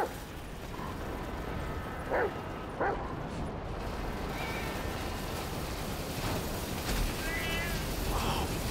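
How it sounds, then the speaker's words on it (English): A dog barks a few times in Grand Theft Auto V gameplay. The short, fairly faint yelps rise over a steady wash of game ambience and noise. "Sniff him out, Chop Chop. Lead me to him"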